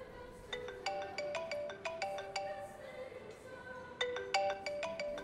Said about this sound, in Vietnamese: À, xin lỗi, anh nghe điện thoại đã.